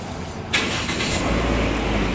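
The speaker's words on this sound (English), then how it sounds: "So we're going to start the engine now" A Toyota Wish engine cranks and catches during an air-conditioning regas job, then settles into a steady, close idle that continues to the end.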